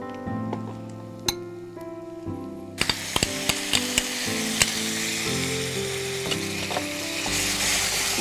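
Spices such as cinnamon and mace powder with yogurt frying in a pan, a loud hiss that swells suddenly after a quiet start, with occasional clicks and clanks of a utensil, no talk.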